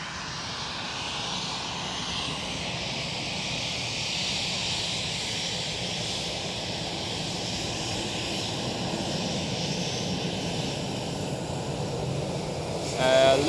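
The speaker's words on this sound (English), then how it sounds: "That was a KLM 777 departing on runway 24." A KLM Boeing 777 departing Schiphol's runway 24 gives a steady, distant jet roar that holds evenly for several seconds and swells slightly near the end, with no voices over it.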